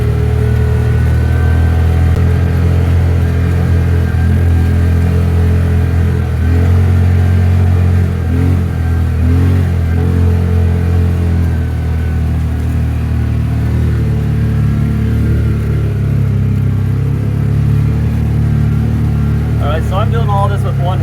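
A 2020 Polaris Ranger UTV driving around a hill, its engine a loud, steady, close mid-pitched drone throughout, with a voice briefly heard over it.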